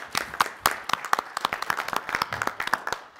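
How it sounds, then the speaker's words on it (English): Applause from a council meeting audience, a modest group clapping with sharp, irregular claps that stay fairly steady for a few seconds before starting to thin out. "Round of applause, please."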